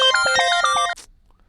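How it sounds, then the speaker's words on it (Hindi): A phone ringtone plays a bright, repeating electronic melody of several rising tones, loud and close, for under a second before cutting off into near silence. "ये किसका फोन आ गया?"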